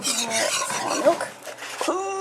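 A spoon scrapes and rubs through thick gravy in a pot, giving close, rasping strokes in an uneven rhythm, with a brief clink of utensil against metal near the end.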